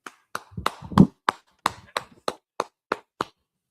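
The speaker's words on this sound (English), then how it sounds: "Bunky, y'all clap it up." About a dozen sharp, separate claps ring out one at a time at a steady pace in a quiet room, as if only a few people at a class session are clapping.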